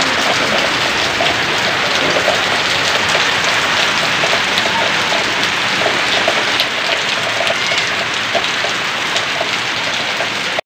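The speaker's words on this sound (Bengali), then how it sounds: "বাইরে তো আবার সন্ধ্যাবেলা ঝমঝমিয়ে বৃষ্টি পড়ছে।" Heavy evening rain pours down outside, a dense, steady hiss of drops on surfaces that stays loud and unbroken throughout with no voices.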